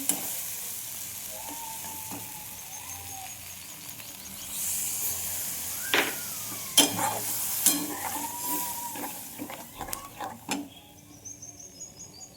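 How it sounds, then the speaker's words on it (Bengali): Water goes into a pan of Shankar fish (stingray) masala frying on the stove, setting off a loud rising hiss and sizzle with scattered stirring clatter and no talk. "তো আমি এখানে জল দিয়ে দিচ্ছি।"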